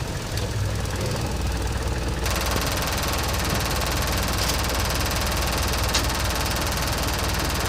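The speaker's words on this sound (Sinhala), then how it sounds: "එන්ජින් චුට්ටක් නවත්තන්න පුළුවන්." A safari jeep's engine running at idle, a steady close broadband rumble with a faint knocking throb, constant and without voices.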